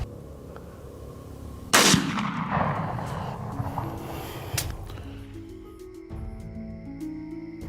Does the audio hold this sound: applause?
no